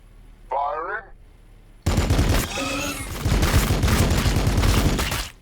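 Gunfire in the Battlesector strategy game, a Blood Angel versus Tyranid match: after a short unit voice line, loud sustained bursts of rapid shots and explosive fire rattle on together, with voiced game speech mixed in.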